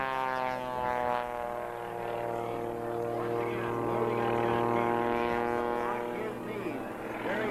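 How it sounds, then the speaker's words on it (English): An aerobatic airplane performing at the 1986 Cleveland National Air Show gives a steady, droning engine hum with strong tonal harmonics that holds unbroken and fairly loud throughout. "Imagine going through upside down the half Cuban 8 turnaround that Jimmy Franklin in the cockpit has just been over through."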